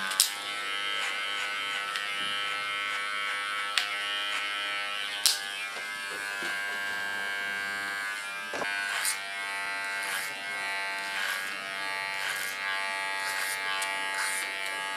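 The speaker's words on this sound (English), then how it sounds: "You hear how nice soft this clipper is." An electric hair clipper buzzes steadily and softly up close for the whole stretch, with a few clicks and small shifts in tone as it moves through short hair, no one speaking.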